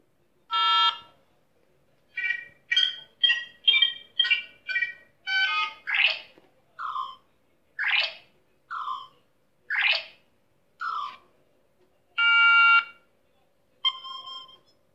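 A series of short electronic chimes and beeps from a KITT-replica car dashboard powering down, rising and falling tones spaced about a second apart, clear and alone against silence.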